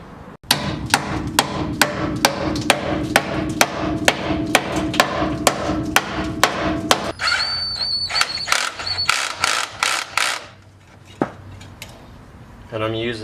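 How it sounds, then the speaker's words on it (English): Repeated sharp hammer strikes ring out in a steady rhythm against the front end bumper of a car during a wheel and front end install, then become sparser and irregular, with a metallic clank between them. "So I'm gonna hammer that away on that side"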